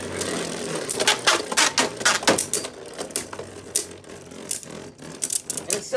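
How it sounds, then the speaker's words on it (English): A Beyblade launcher rips the Black Sun Variant Lucifer top into a stadium, followed by a rapid clatter of plastic tops colliding and scraping, sharp close clicks in quick irregular bursts. "I'm gonna launch Lucifer in one more time."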